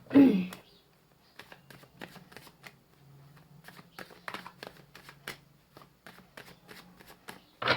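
A deck of tarot cards is shuffled and drawn: an initial riffle followed by a run of crisp, quick card snaps and flicks up close, with a soft voice murmuring at times.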